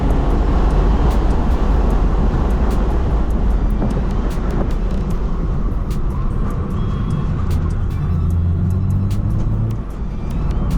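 A BMW car drives laps on a race track, its engine droning loud and steady from start to finish with a continuous road roar and a faint shifting whine near the end.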